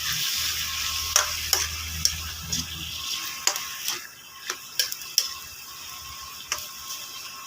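Octopus being stirred in a frying pan, with repeated scraping and clinking of the utensil over a soft steady sizzle, plus a low rumble during the first few seconds.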